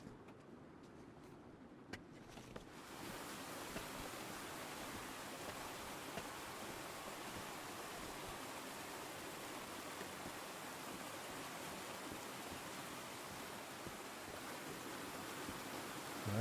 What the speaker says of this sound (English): we got some more lovely waterfalls here